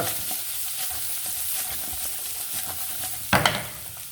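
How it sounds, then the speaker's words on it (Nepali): Steady sizzling and crackling of cumin and coriander powder frying in a hot pan for chicken curry, with a brief clatter of stirring near the end. "हल्का भुट्नेलाई हल्का"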